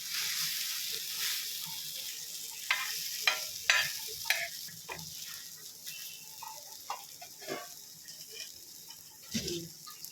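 Ingredients for spot idli sautéing in a pan give a steady, soft sizzle, broken by scattered ticks and scraping stirs, close and fairly quiet, with no talking.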